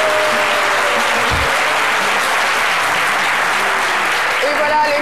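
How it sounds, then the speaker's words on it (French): Studio audience applause on a French TV show fills the whole stretch, a dense, steady wash of clapping from a large crowd with light voices mixed in. "vous pouvez vous applaudir"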